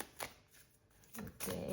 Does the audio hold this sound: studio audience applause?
no